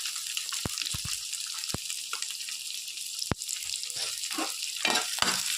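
Chopped onion and green chillies with ginger frying in a pan for prawn chilli: a steady, close sizzle with several sharp clicks from stirring.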